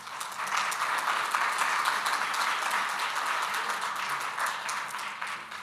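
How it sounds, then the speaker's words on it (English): A conference audience applauds steadily during opening remarks, a dense, even wash of clapping that holds its level for several seconds before easing slightly at the end. "big round of applause for them"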